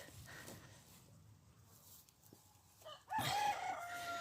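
Quiet outdoor ambience, then a sudden loud burst of chicken calls near the end, a sharp squawking cluck close to the listener.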